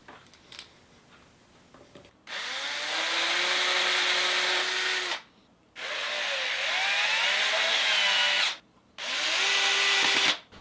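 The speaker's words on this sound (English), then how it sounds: "drywall screws sit nice and flush on the back, and that will screw into the plywood on the back" A power drill drives drywall screws through barnwood into a plywood backing in three long, loud bursts separated by short pauses, the motor note shifting in pitch as each screw bites.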